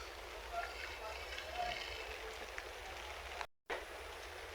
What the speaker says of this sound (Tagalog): tuloy-tuloy kasi yung pag-ulan